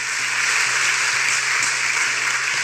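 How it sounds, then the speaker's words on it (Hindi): Crowd applause at a political rally with the chief minister, a steady even roar of many hands clapping with a faint low hum underneath, no speech. "जोरदार तालियां बजाओ इस बात के लिए भी"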